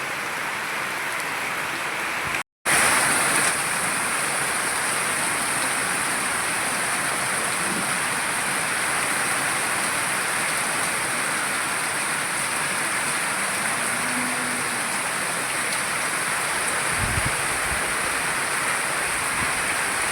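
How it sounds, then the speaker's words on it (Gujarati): Heavy rain pouring steadily in a village, a dense continuous hiss of drops that stays loud throughout, broken once by a very brief cutout, with faint distant rumbles beneath and no talking. "ફૂલ વરસાદ"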